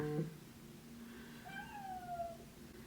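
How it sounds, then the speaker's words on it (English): A house cat meows once in a drawn-out, rising then falling call, faint and a little distant over low room hiss. "These cats."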